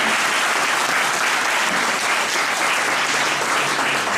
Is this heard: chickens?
no